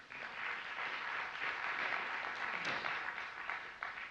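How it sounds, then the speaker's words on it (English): A graduation audience at a Leadership Mountain View ceremony applauds, soft and somewhat distant, a continuous even patter of many hands clapping. "give yourselves a round of applause for that"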